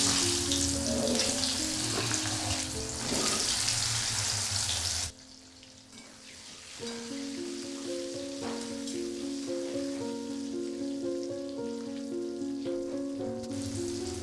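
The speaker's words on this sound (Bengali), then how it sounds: "তেলের মধ্যে আলুটা নিয়ে নিচ্ছি।" Potato pieces fry in hot oil seasoned with turmeric for a cauliflower curry, a loud, hissing sizzle that drops to a softer, steady crackle after a few seconds, with a melodic tone running underneath.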